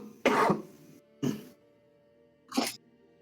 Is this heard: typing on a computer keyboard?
no